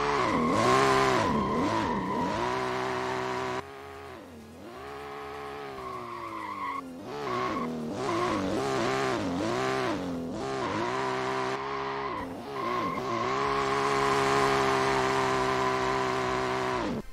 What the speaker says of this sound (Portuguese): Eu vou colocar minha volta aí do Ultimate para vocês darem uma olhada do carro andando